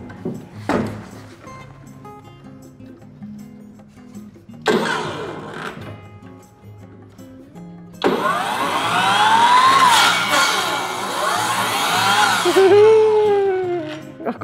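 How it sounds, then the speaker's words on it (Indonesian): A circular saw, used for the first time, cuts a board for a homemade table: after short bursts and handling noises, a loud, sustained whining cut rises and bends in pitch for several seconds, close up, with no talk over it. "Ini baru pertama kalinya pakai circular saw."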